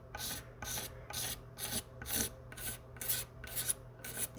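Light scraping on a guitar's sparkle paint finish to level a chip repair, a steady series of about ten evenly spaced rasping strokes, close and fairly quiet, with no talk.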